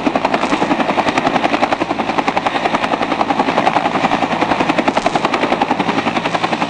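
Military helicopter flying over the open sea during joint Russian-Venezuelan naval maneuvers, a loud, close, continuous rotor thump with fast regular blade chopping throughout, no voices.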